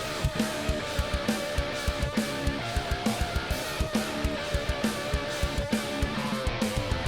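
A driving rock track with a chugging, palm-muted guitar riff over steady, punchy drums, playing continuously at a moderate volume with no vocals.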